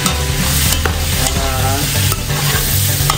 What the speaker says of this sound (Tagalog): Haluin nyo lang mabuti mga lodi.